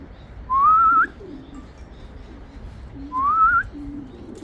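Two clear rising whistle-like calls, evenly spaced, over a low outdoor hum at a pigeon loft as birds come in.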